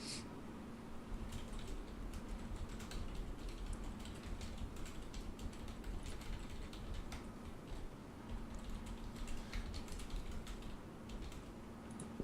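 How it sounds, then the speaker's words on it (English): Keystrokes on a computer keyboard tap out in a steady, quiet stream of clicks over a constant low hum, with no voices. "I can hear typing."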